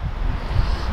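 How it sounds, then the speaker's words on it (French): Wind gusts buffet a truck parked for the night, a close, loud, low rumbling roar that swells and eases for a brief moment with no talking. "Il y a du vent partout"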